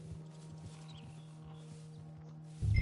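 Horse hooves clip-clop at a steady walking pace in the video game Red Dead Redemption 2, faint and fairly close over a low steady hum, with a louder thump right at the end.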